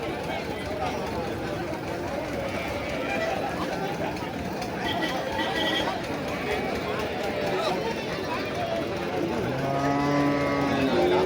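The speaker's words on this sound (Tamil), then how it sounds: "அங்கே ஒரு நாட்டு மாடு பாருங்கள்" A native-breed cow lows at a busy outdoor cattle market, a drawn-out moo rising near the end over steady crowd chatter while someone talks close by.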